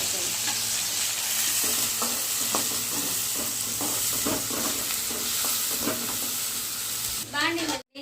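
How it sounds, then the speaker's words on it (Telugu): Chopped onions frying in hot oil in a pan, a steady close sizzle broken by repeated scraping stirs of a spatula, with a brief stretch of voice near the end. "ఆనియన్స్ మొత్తం ఫ్రై చేసుకోవాలి"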